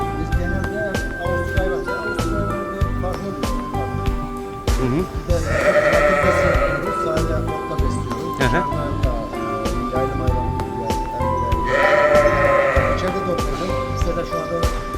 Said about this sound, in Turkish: Avusturya koyunun bunları abi.